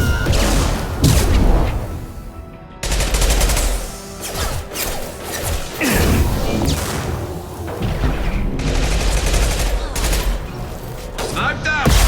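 A rifle fires repeatedly during a Mass Effect 2 firefight, with sharp shots and crashing impacts coming in quick clusters, loud and close. Voices talk between the shots.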